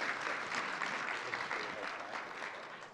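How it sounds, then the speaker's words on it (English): An audience at a corporate panel event on employee mental health and addiction claps steadily, a dense, sustained round of applause that fades slightly toward the end. "You can clap. That would be perfectly good."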